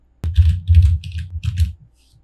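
A run of quick keyboard keystrokes in short bursts, close and fairly loud, followed by a couple of fainter taps at the end; the keys are struck while entering text in AutoCAD.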